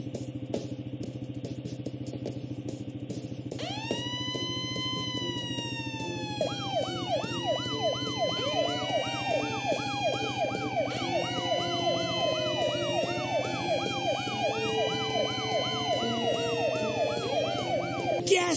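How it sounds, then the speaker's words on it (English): Several cartoon fire truck sirens from a Blaze and the Monster Machines video game start up and wail over each other, rising and falling in overlapping sweeps above a steady background hum. "To turn our sirens on and off, use your mouse to click on the fire trucks."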